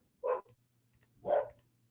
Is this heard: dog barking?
yes